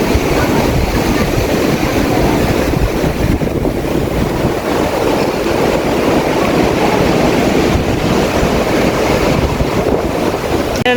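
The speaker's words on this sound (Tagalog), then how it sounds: "Ayan yung alon, malakas." Strong ocean surf rolls in at Muriwai Beach near Auckland, New Zealand, a loud, continuous roar of waves heavily buffeted by wind noise on the microphone.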